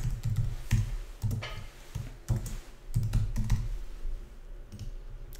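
Keys clatter in irregular bursts on a computer keyboard while a name is entered into an online credit card payment form, the clicks close and fairly quiet with short pauses between runs.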